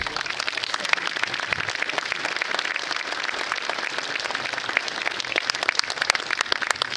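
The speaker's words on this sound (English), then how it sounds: "Give him a nice round of applause." Applause fills the room at a baseball hall of fame induction ceremony. Many hands clap in a dense, even patter that sounds a little distant and carries on steadily for seven seconds.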